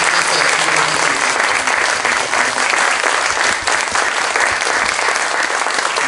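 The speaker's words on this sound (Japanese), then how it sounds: "登壇された方にあの盛大な拍手をまたよろしくお願いします。" Loud, sustained applause from a large audience at a Constitution Day lecture event in Japan continues without a break, a dense and even wash of clapping close by.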